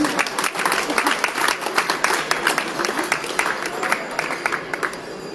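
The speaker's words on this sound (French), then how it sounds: "vous pouvez vraiment les applaudir" Audience applause at an agricultural show with cattle, a dense, steady wash of many hands clapping for over five seconds, fairly close, with voices murmuring faintly beneath.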